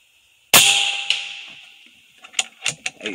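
A single sharp crack from a .25 caliber Air Venturi Avenger air rifle, close and loud with a ringing decay, followed by a few faint clicks and taps.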